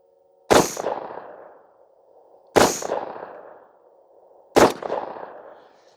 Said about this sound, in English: And try a few more shots.